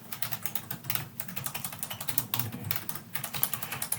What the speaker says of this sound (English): if I could just type